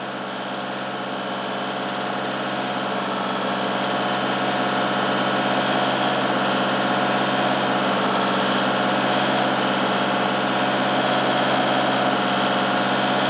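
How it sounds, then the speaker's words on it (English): Vehicle engine running steadily near the microphone, a constant low hum and drone that rises slightly in the first seconds as it is revved, then holds at an even idle with no talking, while a DC to DC charger draws around 40 amps. "once more I'll rev it up again"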